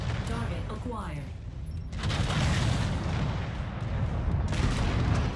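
Autocannon fire from a mech in MechWarrior 5: Mercenaries comes as a rapid series of heavy booming shots with rumbling low end, loud and close, under a game voice and talk.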